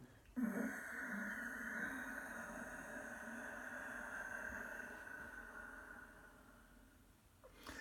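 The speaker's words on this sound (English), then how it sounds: "Soft, whistling, silky breath, Ujjayi breath" A long, steady breath with a soft, hissing, ocean-like rasp, drawn out evenly for several seconds and fading slightly at the end.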